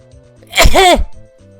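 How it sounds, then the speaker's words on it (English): A single sharp sneeze bursts out close and loud over a quiet, low background hum, with a short breathy lead-in and a clipped end. "Oh, I got a sneeze coming up real quick."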